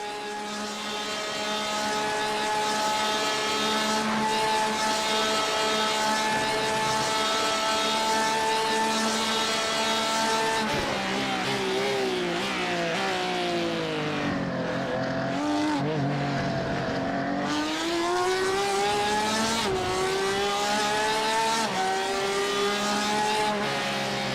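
Onboard engine note of a Porsche race car lapping Spa-Francorchamps in a racing video game, a loud sustained high-revving whine that climbs through gears, dips under braking around the middle, then rises again, with no voices.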